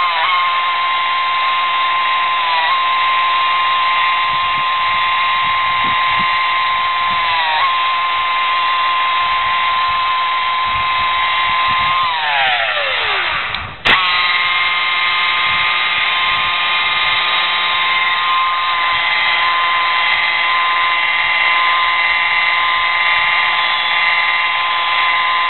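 A polisher wheel spins at about 1,000 rpm applying paint sealer to a 2005 Passat, a loud continuous high whine that dips briefly in pitch midway before resuming steadily.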